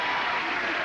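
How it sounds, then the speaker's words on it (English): Brief burst of studio audience applause, a dense wash of clapping filling the moment at moderate level with no talk over it. "by the sound of your applause"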